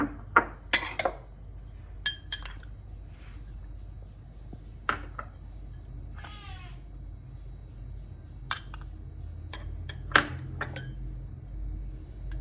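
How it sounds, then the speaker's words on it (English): Sauce ingredients are mixed in a bowl for a pork ribs fry, with scattered light clinks and taps of a utensil against the bowl over a quiet low hum. "First of all, we'll mix the ingredients in this bowl."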